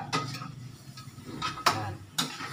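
A spoon stirring adobo in a pot gives a few light metallic scrapes and clinks at irregular intervals, close and fairly quiet.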